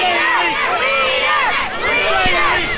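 Vocal children in the crowd at a free wrestling show, loud overlapping shouts and chants that rise and fall in quick sweeping calls, a dense nearby babble with a brief thump near the end.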